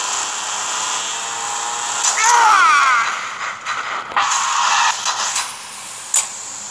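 A motorcycle engine in the Gangsta Vegas video game whines at a high, buzzy pitch, revving up and down in short surges, loud and close with brief drops between revs.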